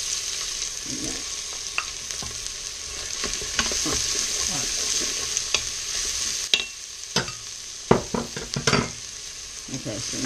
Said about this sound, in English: now I'm gonna kind of toast the seasonings in the bacon fat